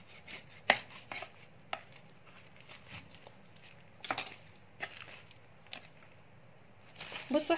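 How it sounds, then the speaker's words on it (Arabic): Sheep tail fat being cut with a knife on a board, irregular soft chops and knocks, fairly quiet and close, with a few sharper strikes scattered among muffled cuts. "دلوقتي هنبتدي نقطع"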